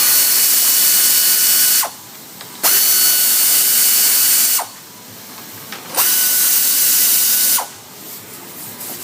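Power ratchet spins out 10mm bolts from the radiator fans of a 1997 Toyota Camry, loud whirring bursts of about two seconds each, three in a row with short pauses between them.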